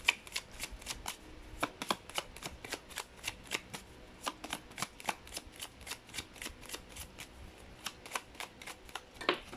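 Tarot cards shuffled by hand, a rapid run of crisp riffling snaps and flicks repeating steadily and close up, with no voices.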